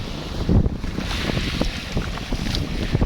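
A boat's new engine drones under strong wind noise and splashing waves off a white sand island in Jimenez, loud and close throughout, with no voices.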